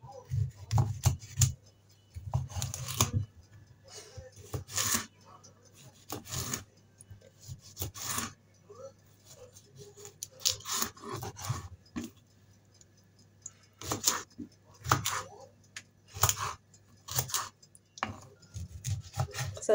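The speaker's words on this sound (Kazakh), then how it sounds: "Қиярымызды турап аламыз." Cucumber is sliced with a knife on a board for a carp shashlik salad, making repeated close cutting taps and scrapes in uneven bursts with pauses, over a steady low hum.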